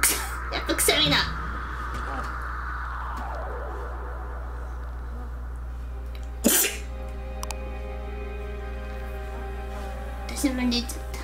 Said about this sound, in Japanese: やっとくしゃみだ。